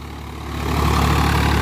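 A Swaraj 855 tractor engine runs with a heavy, low diesel rumble that swells louder over the first second and then holds steady and close, with no talk.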